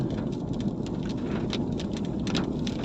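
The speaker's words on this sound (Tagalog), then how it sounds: "Mahabang ulanan po ito." Steady heavy rain pours down without pause on the Old Zigzag Road of Atimonan, Quezon, a dense hiss of drops with a low rumble underneath and no voices.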